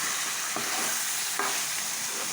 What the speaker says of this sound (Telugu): ఉల్లిపాయలు అన్నీ ఫ్రై అయిపోయాయి ఇప్పుడు కలుపుకున్నాం